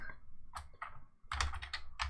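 Quick clattering keystrokes on a computer keyboard, close and crisp, in short uneven bursts with a brief pause in the middle, with no one talking.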